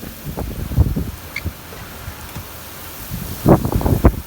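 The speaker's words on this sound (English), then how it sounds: "Wow, that was a big gust." Gusty wind from Tropical Storm Henri buffets the microphone in low rumbling bursts, swelling strongly near the end, with no one speaking.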